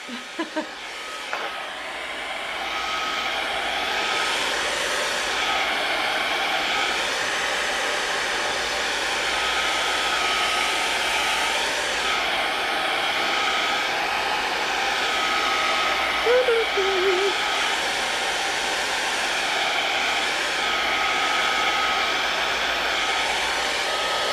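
A hair dryer blows steadily with a constant whirring hiss, starting after a brief click and running loud and unbroken throughout.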